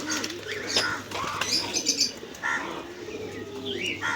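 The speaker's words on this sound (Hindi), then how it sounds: "तो देखिए किस तरह से ये कबूतर है" Runt pigeons, an American breed related to the Lakha pigeon, in black and pink colouring coo in a village aviary, with several close, throaty coos, scattered chirps and a brief flutter of wings.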